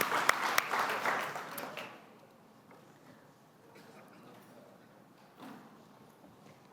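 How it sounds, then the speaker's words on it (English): Audience applause at a morning community update and water forum, a loud burst of clapping for the next generation that fades after about two seconds into quiet room tone with faint murmurs. "let's give a round of applause to our next generation"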